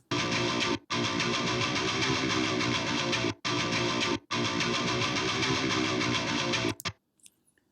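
Dense, moderately distorted electric guitars play sustained chords in loud blocks separated by brief gaps, then cut off and ring out into near silence.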